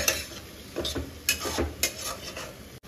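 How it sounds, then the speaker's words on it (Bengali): Tomato with salt sautéing in a pan gives a soft background sizzle under a quiet spoon, which scrapes and taps against the metal in several irregular strokes. "এবার এখানে আমি নুন দিয়ে দিচ্ছি, এটা একদম ভালো করে কষতে দেবো"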